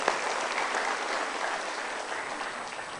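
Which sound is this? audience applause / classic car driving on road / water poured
audience applause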